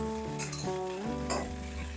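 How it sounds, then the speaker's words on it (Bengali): Okra fries in hot oil in a pan, a close sizzle with stirring scrapes and a tonal hum underneath, brief and moderately loud. "প্রথমে আমি এই ঢ্যাঁড়স বা ভেন্ডিগুলোকে ভেজে নেব।"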